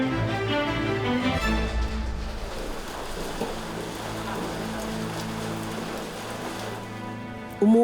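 Rain falls steadily in Manila, Philippines, a soft, continuous patter that is partly masked by music swelling over it, with no voices.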